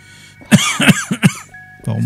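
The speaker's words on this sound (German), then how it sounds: "Warum muss ich wieder husten?" Several sharp, close coughs from a character in the video game State of Mind, four quick hacking bursts in a row followed by a short pause and a faint tonal game sound.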